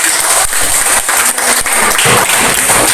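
A classroom audience of students claps for a presenting group, a loud, dense burst of applause lasting a few seconds with no voices over it.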